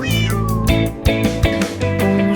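A cat meows in a French children's song, several drawn-out mews over a dense bed of music with a steady beat, loud and close.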